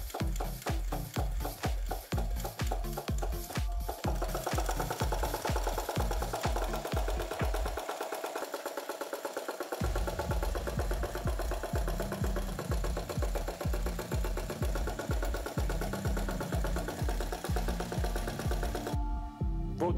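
A small Stirling engine drives a belt-coupled generator lighting four LEDs at about 240 RPM, giving a loud, steady rapid mechanical clatter that runs continuously with a brief dip in the low thump partway through.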